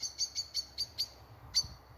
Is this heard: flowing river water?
no